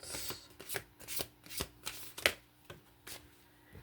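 Tarot cards shuffled by hand in a quiet room, a run of crisp riffling bursts roughly every half second, close and fairly soft, with no talking.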